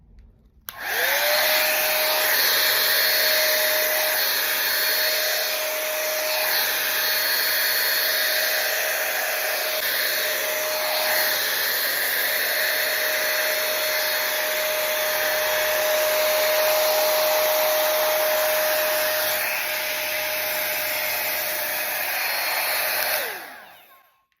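A Dyson-style hair dryer bought from Temu runs with an attachment fitted, a loud steady whooshing blow with a high motor whine, switching on and off at the ends and staying constant between.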